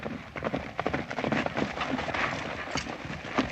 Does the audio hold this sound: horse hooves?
yes